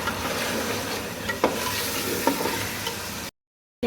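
Food being stirred and roasted in a pan on a stove, with a steady frying sizzle throughout, a couple of short scraping clinks from the spoon, then an abrupt cutoff into silence near the end.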